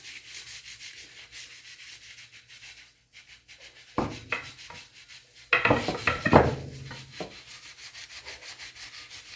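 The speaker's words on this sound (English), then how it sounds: "So when you're using the liquid deglosser and a green scrubby, just dip it in" Green scrubby pad soaked in liquid deglosser scrubbing an antique wooden rocking chair, soft faint rubbing at first, then a few louder close scouring strokes in short bursts before fading back.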